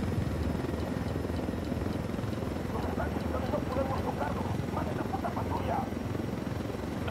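In the video game Ghost Recon Wildlands, a helicopter flies with a loud, continuous rotor thrum and engine whine, while a person talks over it.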